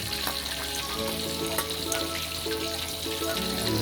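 Pork pieces frying with red fermented bean curd in a pan, Chinese-style babi goreng tauhu merah, a dense, steady crackling sizzle with scattered pops, close and unbroken for a few seconds.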